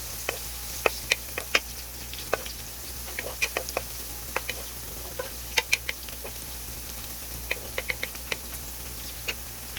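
Garlic fries in a pan for chicken korma, giving a scattered run of small ticks and light pops over a low steady background hum.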